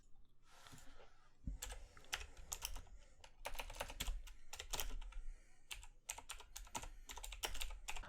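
Rapid clattering of keys on a computer keyboard, typed in quick irregular bursts with short pauses, close and fairly loud, no voices.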